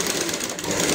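A sewing machine stitching a kurti neckline, a fast, steady mechanical whir with rapid needle chatter, close and continuous for about a second.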